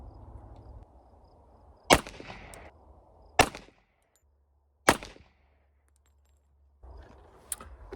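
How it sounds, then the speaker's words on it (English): Three sharp gunshots from a budget 1911 .45 ACP pistol firing 230 grain Sierra jacketed hollow point rounds at an outdoor range, loud and evenly spaced a second or two apart, with a low background hum between the shots. "the last 3 will be the 230 grain Sierra jacketed hollow point"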